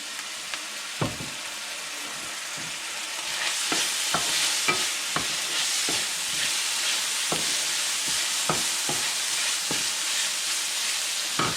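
Eggplant stir-fries in oyster sauce with a constant bright sizzle, while a utensil knocks and scrapes against the pan at an irregular rhythm throughout.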